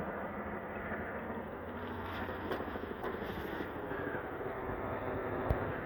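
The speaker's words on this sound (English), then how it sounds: "what kind of helicopter is that they sending over here?" A helicopter flies overhead, a broad, steady rotor and engine roar that fills the whole stretch at moderate loudness with faint chopping pulses.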